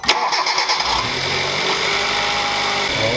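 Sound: car engine starting and idling

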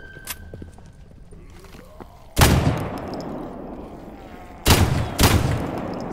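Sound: gunfire in the S.T.A.L.K.E.R. Gamma video game

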